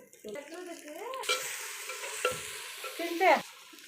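Tomatoes go into a pan with mint for a Tamil vegetable rice dish, bringing a sudden loud sizzle with stirring scrapes that swell toward the end, and a voice talks briefly near the start.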